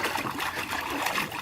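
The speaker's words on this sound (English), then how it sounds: "Are you splashing? Splash some more." A child splashing water in a pool, a brief continuous patch of close trickling and sloshing.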